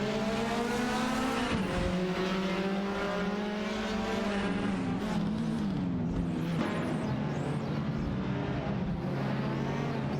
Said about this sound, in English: Okayoki 3 and Eriksgen are fiercely competing in their Alpine A110 cars.